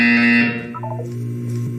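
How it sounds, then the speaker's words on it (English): A Portal 2 buzzer gives a loud, sustained electronic tone for about half a second, then drops to softer descending beeps that fade out. "When you hear the buzzer, look up at the ceiling."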